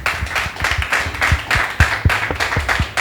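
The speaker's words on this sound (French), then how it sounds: "Est-ce qu'on peut recevoir avec des applaudissements bien mérités Monsieur Aimé Khessou" Studio audience applause greets a guest arriving on a French-language talk magazine set, a steady crowd of dense overlapping claps with sharper individual hand claps standing out, continuous and fairly close throughout.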